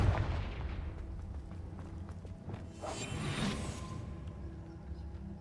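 Confringo blasting spell cast in Hogwarts Legacy: a burst of impacts and a rushing whoosh over steady game sound and music, loud and close, with a brighter blast swelling midway through.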